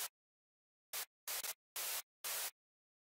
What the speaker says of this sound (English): so I put white noise.